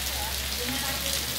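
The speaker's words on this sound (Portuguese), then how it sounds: "E agora essa chuva aqui maravilhosa que estamos curtindo." Steady rain falls with a dense, even hiss across the whole stretch, constant and fairly close, with faint voices far under it.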